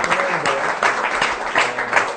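An audience applauds in a TV studio during an Italian regional sports broadcast, with steady, dense clapping throughout.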